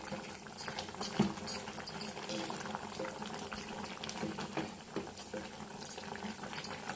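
Onion gongura simmering in a clay pot, a steady bubbling and popping boil with soft patter, heard close and continuous under a quiet voice speaking.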